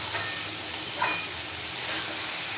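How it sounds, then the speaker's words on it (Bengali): Soybean chunks fry with spices in a pan. It is a quiet, steady sizzling hiss that runs throughout without change, with no one speaking. "এইবারে সয়াবিনটা একটু মশলার সাথে কষিয়ে"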